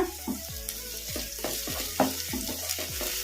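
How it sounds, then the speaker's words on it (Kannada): Tomato and onion fry in a pan with a steady sizzle, while repeated spatula scrapes and taps give a regular stirring rhythm up close. "ಮೆತ್ತಗ ಫ್ರೈ ಆಗೋವರೆಗೂ ಫ್ರೈ ಮಾಡ್ಕೊಂಬಿಡೋಣ ಟೊಮೊಟೊನು ಉಳ್ಳಾಗಡ್ಡೆ ಮೆತ್ತಗೆ ಫ್ರೈ ಆಗಿದಾವಲ್ಲ"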